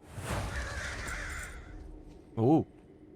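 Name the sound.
bird cawing sounds in the video game World of Warcraft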